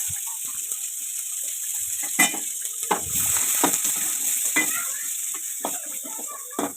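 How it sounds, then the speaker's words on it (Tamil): Onions fry with turmeric and spices in a pan for a jackfruit seed fry, sizzling steadily up close while a spoon scrapes and stirs in repeated irregular strokes. "அடுத்து நம்ம இதோட வெங்காயத்தையும் சேர்த்து நல்லா மிக்ஸ் பண்ணிக்கலாம்"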